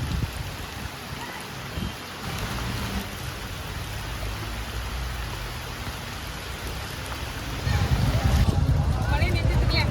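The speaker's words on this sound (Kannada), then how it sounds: "ಮಳೆ ಅಂತೂ ಫುಲ್ ಜೋರಾಗಿ ಬರ್ತಾ ಇದೆ" Heavy monsoon rain falls at Amboli near the waterfalls, a loud, dense, continuous roar that swells slightly stronger toward the end.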